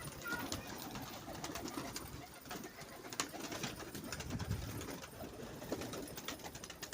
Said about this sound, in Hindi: कबूतर भी खोल देते हैं, कबूतर भी देख लें।